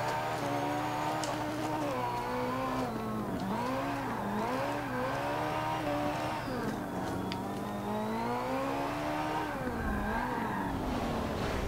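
A car engine in a drifting game revs and wails continuously at Maple Valley, its pitch rising and falling in sweeping arcs as the throttle swings, with tire squeal mixed in, loud and sustained throughout.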